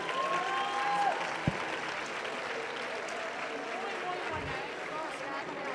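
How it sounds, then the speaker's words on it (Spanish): Sustained applause from a crowd, steady and fairly loud throughout, with faint background noise and no speech over it. "otro aplauso muy fuerte, por favor."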